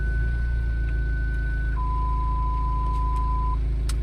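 Parking sensor warning tones from a 2015 BMW X4 20d xDrive in reverse: a steady higher tone shifts to a lower steady tone over a low engine hum, close and clear, with no voices.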